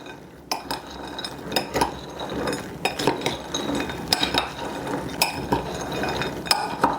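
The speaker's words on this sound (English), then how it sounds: "I'm going to throw in our wasabi peas, mix those around, or let them all fall to the bottom." Spicy wasabi peas are tossed into a bowl and stirred around. Repeated sharp clinks and scraping clatters of a utensil against the bowl come in an irregular rhythm, close and fairly loud, with no talking.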